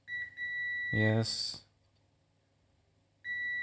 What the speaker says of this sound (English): Continuity 22 ohm should beep